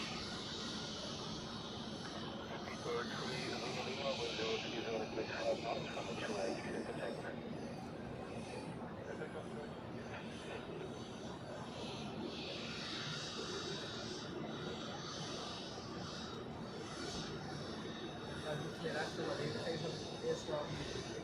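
Aircraft at Zurich airport during a freezing rush hour, a faint, steady distant engine roar rising and falling, with people talking quietly over it.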